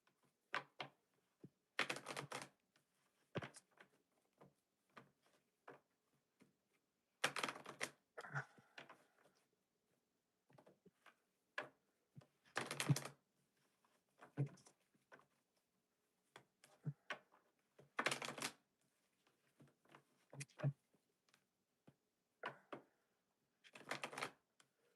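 A deck of tarot cards is shuffled in short, crisp bursts of riffling and flicking, separated by pauses of near silence and heard close and quiet.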